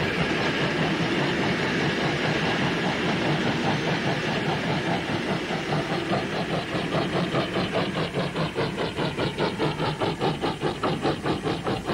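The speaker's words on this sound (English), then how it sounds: "the Perth-bound express from Kalgoorlie passes the goods train" In 1960s Western Australia, a Perth-bound express from Kalgoorlie passes a goods train early in the morning. A loud, continuous roar of rolling stock is heard, with rhythmic wheel clatter on the rail joints growing more distinct toward the end.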